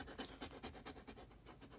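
A big 75-pound German Shepherd pants hard and fast from fear of thunder, about eight quick close breaths in a steady rhythm, with no talking.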